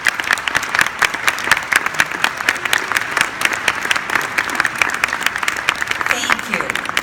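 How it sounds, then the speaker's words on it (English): At the APHA 2015 opening session, a large audience gives a round of applause, dense rapid clapping at steady loudness throughout, with crowd murmur and a few voices underneath. "Let's have a round of applause."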